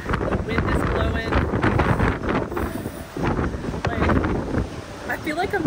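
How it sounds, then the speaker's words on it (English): Strong wind roars across the deck of the Celebrity Summit cruise ship at sea, a loud steady buffeting rush with gusts swelling and dipping as a voice talks briefly near the end. "The wind is blowing."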